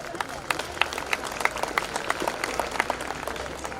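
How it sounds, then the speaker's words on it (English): Audience at a school annual function clapping for a special performance, a moderate, somewhat uneven patter of hands with some crowd murmur underneath. "let's all clap for them."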